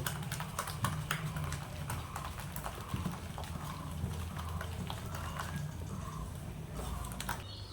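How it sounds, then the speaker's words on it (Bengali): Masoor lentil batter with jackfruit seeds, salt and turmeric being whisked by hand in a bowl, a rapid, steady tapping and slapping rhythm that continues without a break. "নুন আর হলুদটা দিয়ে ভালো করে ডালটাকে ফেটিয়ে নেব"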